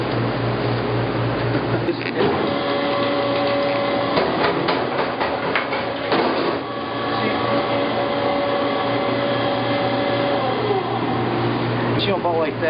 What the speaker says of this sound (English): Take trimmings, you dump it up here, you go grind it through once